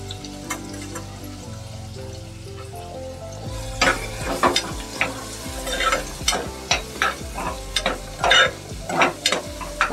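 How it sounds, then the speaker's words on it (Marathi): Onion frying in a pan of vegetable curry starts as a low sizzle, then turns into loud, busy stirring with repeated scraping and clattering of a spoon against the pan over the steady crackle. "आता समजा हे टाकते कांदा, म्हणजे कांदा भाजेल त्याच्यामध्ये"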